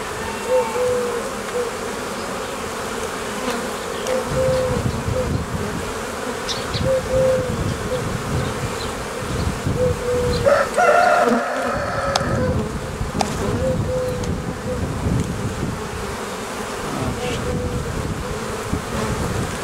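Honeybees at an open hive, with frames being moved between the colony and a nucleus, give a dense continuous buzz that stays loud and close throughout, with a few brief handling knocks.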